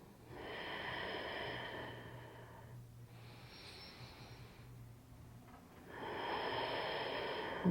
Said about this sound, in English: Stay connected to your breath